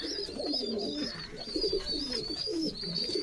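Pigeons coo in a pigeon loft in Habra. Soft, rolling, repeated coos sound close and continuous, overlapping one another, with no talking.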